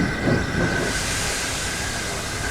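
A steam engine hauling its train into a big station, with a loud, close, continuous hiss and rumble under a low chuffing rhythm.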